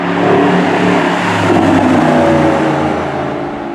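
A Mercedes SLS AMG's engine revs and pulls hard under acceleration, a loud, sustained deep exhaust roar rising and holding close by, with no voices over it.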